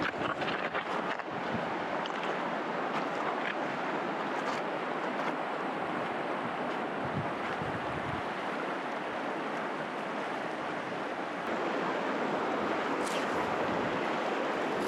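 Steady broadband wind rushes and buffets outdoors beside a remote backcountry river in Idaho, loud and continuous with gusty low rumble, and no voices.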